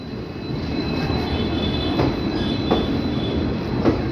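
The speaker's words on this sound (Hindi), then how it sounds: "this is the Kathgodam Lucknow express 15044" The Kathgodam Lucknow Express 15044 rolls along the track, a loud continuous rumble with high wheel squeal and periodic rhythmic clacks of the wagons.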